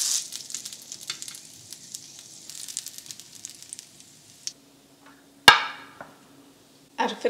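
Chapli kebabs frying in a pan, a bright sizzle that fades over several seconds, followed by a sharp metallic clank and a few utensil knocks close by.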